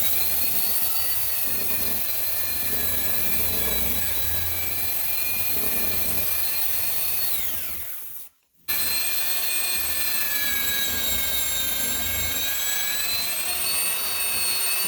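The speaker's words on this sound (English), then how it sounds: "this machine is very powerful, super fast, and pretty much it can sand anything very," A Porter Cable 7800 drywall and ceiling sander runs at full speed with a loud, steady high-pitched motor whine and rushing air, briefly cutting out near the middle before resuming just as loud.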